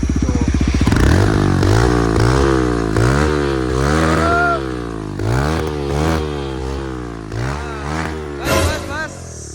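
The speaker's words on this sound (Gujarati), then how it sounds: "જરીક ગાડી ચાલુ કરીને અવાજ સંભળાવતો" A Bajaj Pulsar NS125 motorcycle fitted with a full-system exhaust idles loudly up close, then is revved repeatedly in rising and falling bursts, with voices talking in the background.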